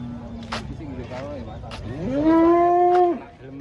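A giant cow being unloaded from a truck lets out one long, loud, rising moo near the end, after quieter lowing and background chatter from people nearby.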